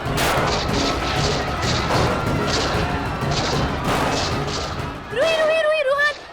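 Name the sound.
gunshots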